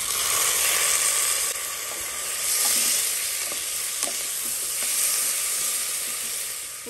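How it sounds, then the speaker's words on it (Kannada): Chopped tomato sizzling and frying in hot oil with ginger for an egg curry, a steady close hiss with occasional soft stirring clinks throughout. "ಒಂದು ದೊಡ್ಡ ಟೊಮೆಟೋನ ಹಾಕ್ತಾ ಇದೀನಿ"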